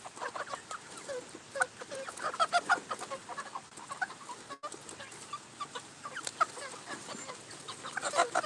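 Several chickens cluck and squawk close by in an irregular, busy chatter, with soft rustling around them and no talking.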